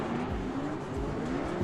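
Drift car on a kart track passing the stands during a live drift battle, a steady loud engine drone with rising pitch and a tire hiss as it sweeps by close.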